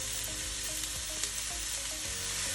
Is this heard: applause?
no